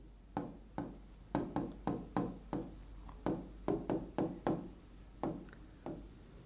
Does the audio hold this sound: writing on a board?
yes